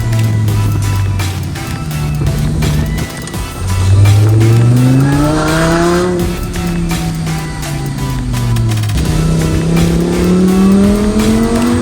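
Loud, close engine revving from a Lamborghini Huracan EVO's aftermarket exhaust in manual mode, heard from inside the car, pitch rising through the gears, then cutting and rising again in repeated sweeping pulls.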